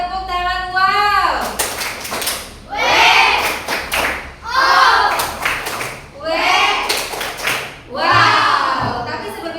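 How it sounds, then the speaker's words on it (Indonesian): A class of children claps in rhythmic bursts for a group presentation, four loud waves of clapping mixed with children's voices chanting and cheering along. "Beri tepuk tangan."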